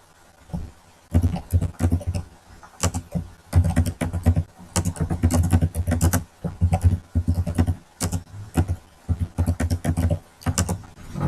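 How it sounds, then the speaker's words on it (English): Someone types on a computer keyboard in quick bursts of crisp, close clicks and key taps, pausing briefly between runs, loud and dry with no other sound behind them. "I'm typing as well."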